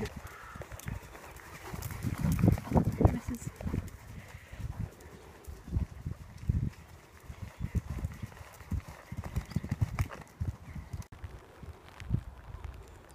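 A horse cantering in a riding arena during a jumping session, with rhythmic hoofbeats thudding steadily throughout at close range and occasional faint voices in the background.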